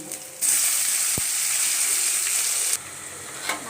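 Mustard seeds and tomato frying in hot oil for a South Indian vada kuzhambu, a steady close sizzle that swells for a few seconds and then eases back, with no talking.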